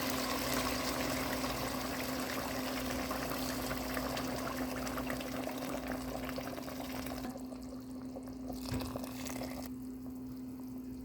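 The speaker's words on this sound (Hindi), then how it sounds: "अब चावलों का पानी ऐड कर रही हूँ।" A steady stream of water pours into a pot of chicken pulao for several seconds, its sound changing as the pot fills, then tapers off to light trickling.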